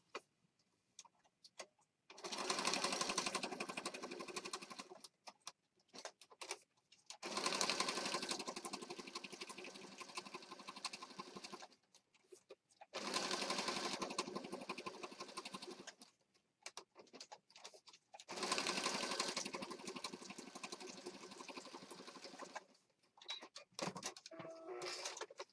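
A sewing machine stitches paper pages for a junk journal in four sustained runs of fast, even rattling, each a few seconds long, separated by quiet pauses, close and fairly soft.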